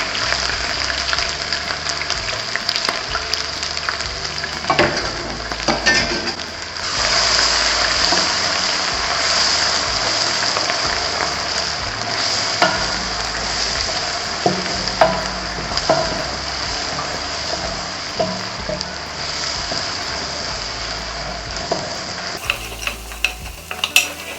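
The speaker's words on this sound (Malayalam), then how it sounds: "കടുക് പൊട്ടി നമുക്ക് അരച്ചു വെച്ചേക്കുന്ന ഇഞ്ചിയും വെളുത്തുള്ളിയും കൂടെ" Ginger garlic paste and mustard seeds frying in coconut oil, a loud continuous sizzle with frequent scrapes and knocks from stirring. The crackle stays close and steady, and the sound changes abruptly near the end.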